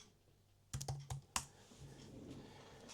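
A short burst of quick keystrokes on a computer keyboard while typing a Google search for an SVG hoodie mockup, close and crisp, then a quiet room hush.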